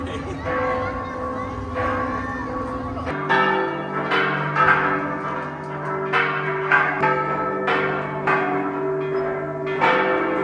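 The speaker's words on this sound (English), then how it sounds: "And then the church bells start to ring." Church bells ring out over a plaza in Querétaro, Mexico, in a repeating, resonant peal that overlaps and sustains, with a crowd murmuring underneath.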